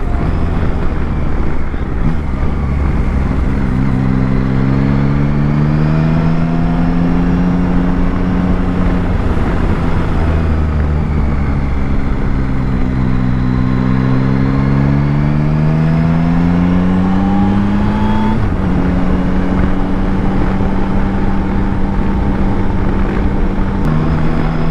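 A 2024 Yamaha Tracer 9 GT+ motorcycle engine while riding on the road, a steady droning hum that rises and falls in pitch through several gear and throttle changes, heard close amid constant wind buffeting.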